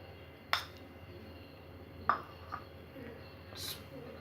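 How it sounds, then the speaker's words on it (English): Sandwich filling being mixed with mayonnaise in a bowl, heard as a few sharp spoon clinks spaced a second or two apart over a quiet room background. "Just mix everything with mayonnaise."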